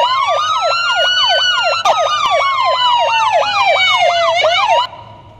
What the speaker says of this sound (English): Sirens are pretty cool.